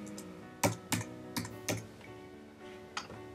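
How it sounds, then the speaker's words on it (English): Website address being typed on a computer keyboard: a handful of distinct, crisp key clicks at an uneven pace, fairly close and alone with no talking. "Next I type in nutritiondata.com or nutritiondata.self.com"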